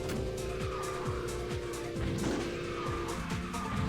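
A kart in KartRider Rush+ drifts with a sustained electronic tire skid over a droning game engine and music, loud and close, with no talking.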